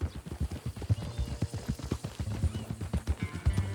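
Steady rhythmic hoof beats of a horse trotting in Red Dead Redemption 2, close and even-paced, with low thuds repeating continuously for several seconds.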